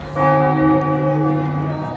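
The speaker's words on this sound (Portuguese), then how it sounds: "Os sinos da Igreja de Santa Croce também quiseram informar o número de dias desta guerra e tocaram 17 badaladas" A single loud, resonant strike from the bells of the Church of Santa Croce rings out and sustains with a long, slowly decaying hum.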